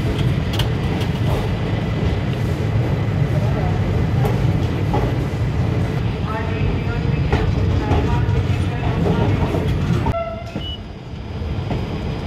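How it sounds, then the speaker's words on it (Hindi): Loud, close rumble of an Indian passenger express train pulling out and running on the Ranchi to Hyderabad route, a continuous roar with faint rhythmic wheel clatter, easing off near the end, with muffled voices in the coach. "बाकी मेरी ट्रेन खुल गई है।"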